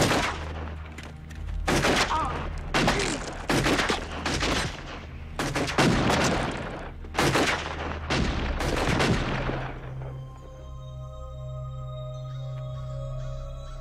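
Heavy gunfire in a tense film shootout, repeated loud bursts of shots in clusters, booming and close, giving way to a lingering ringing tone as the firing stops.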